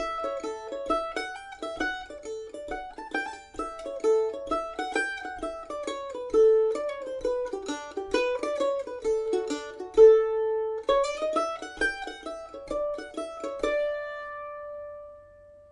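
A mandolin plays a version of Fisher's Hornpipe at a steady moderate tempo, bright picked notes in quick running lines with occasional tremolo holds, ending on a sustained note, solo and close.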